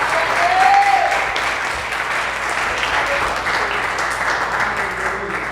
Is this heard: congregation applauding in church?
yes